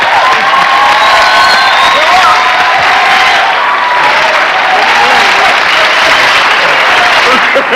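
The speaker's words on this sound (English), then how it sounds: "Give him a round of applause." A television studio audience on the Byron Allen Show in 1991 applauds loudly for guest Benny Medina, a dense sustained wash of clapping with cheers and whoops mixed in, steady for several seconds.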